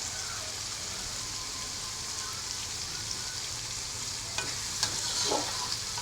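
Red chilies for Padang-style sambalado fry submerged in plenty of oil, making a continuous rain-like sizzle with a few stirring scrapes and spits toward the end.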